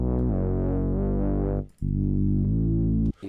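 Heavy sub-style bass with its highs rolled off by EQ, sustained low notes in a loop-making beat, loud and alone, with two brief gaps where the tone drops out.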